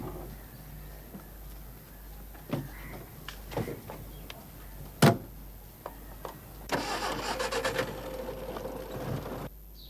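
A car engine turns over and starts in an outdoor setting, with a sharp click and short bursts before a steadier running rumble swells near the end, over low background noise.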